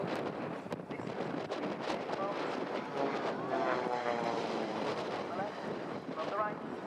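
A display team aircraft flies a backward crossing at the Royal International Air Tattoo airshow, a steady broad engine roar with wind buffeting, sustained and fairly loud throughout.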